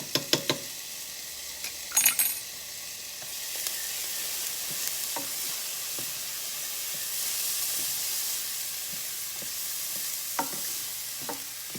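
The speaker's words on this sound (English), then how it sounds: "Time for me to add some minced garlic." Minced garlic sizzles in a pan of healthy noodle spaghetti sauce, with a few clattering stirs at the start and a steady frying hiss throughout, close and moderate, with no talking.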